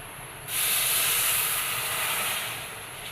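Water poured into a hot pan holding half a cup of sugar bursts into a loud, steady hiss that starts abruptly and holds for a few seconds before easing slightly, with no talking.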